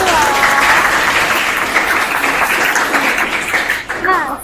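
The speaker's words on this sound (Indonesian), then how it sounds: "beri tepuk tangan buat kelompok" Students in a classroom during a mathematics lesson give group 2 a lively round of applause, with noisy, close clapping and voices calling out over it.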